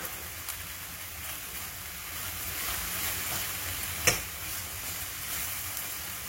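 Potato pieces tumble into a pan of browning goat meat for a Caribbean colombo, bringing a steady sizzle and frying hiss with light stirring and one brief sharp clink partway through.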